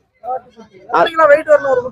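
A young lamb or kid bleats up close at a livestock dealer's, with a few loud quavering cries in quick succession after a brief softer sound.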